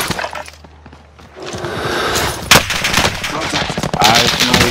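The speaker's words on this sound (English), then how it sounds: "somebody shooting, bro" Rapid automatic gunfire rattles through a Call of Duty: Modern Warfare match, with bursts of shots and sharp cracking impacts, some glassy and breaking, loud and near amid game noise.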